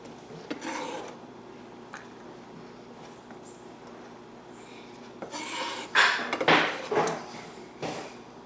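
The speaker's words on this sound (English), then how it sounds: "each of them needs garlic. So go ahead and chop this up so it's ready to go." A knife works through garlic on a cutting board during home meal prep, giving soft rasping, scraping strokes with a few clustered clacks and taps toward the end, close and moderately quiet with no talk.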